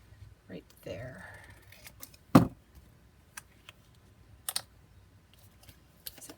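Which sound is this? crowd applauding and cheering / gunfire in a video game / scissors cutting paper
scissors cutting paper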